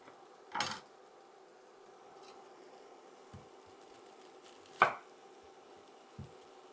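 A knife cuts a yellow onion on a board, giving a few sparse, isolated chops and thuds spaced about a second or two apart, close and clear over a quiet kitchen background.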